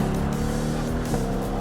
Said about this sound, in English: the sound of that dual clutch transmission flying through those gears